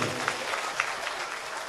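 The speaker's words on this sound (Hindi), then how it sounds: "एक बार जिनवाणी चैनल परिवार के लिए जोरदार तालियां बजाइए।" Applause from an audience at a Jain religious gathering, a short burst of scattered clapping heard fairly faintly at a distance, with a murmur of voices beneath.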